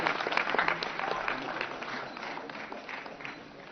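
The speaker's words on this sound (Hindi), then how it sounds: "एक बार जोरदार तालियां हो जाए" Audience applause at the closing ceremony of a Himalayan film festival, dense clapping from a crowd that is loud at first and gradually tapers off.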